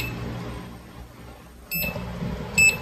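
A multimeter set to continuity while testing three wires of a mini driving light, giving short high-pitched electronic beeps, one near 1.7 seconds and a brighter one near 2.6 seconds, over low background hum.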